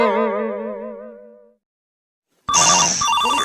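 Mobile phone ringtone ringing as a warbling melodic tone that fades out, then after a brief silence a louder, brighter repeating ringtone pattern.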